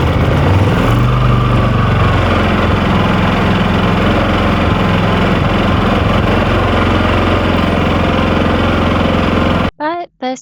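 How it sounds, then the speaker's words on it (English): A quiet inverter generator engine hums steadily at a low, even drone, ending abruptly with a brief voice at the very end. "the super quiet inverter generator completely changed our perspective"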